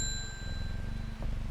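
Bell rung in the Strange Horticulture video game, a clear sustained ding with lingering ringing tones over steady low background music.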